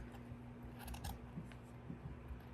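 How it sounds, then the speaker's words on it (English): Sharp scissors cut around paper with faint, close crisp snips scattered through a quiet, humming room, no talk. "Take a pair of sharp scissors and just go right around"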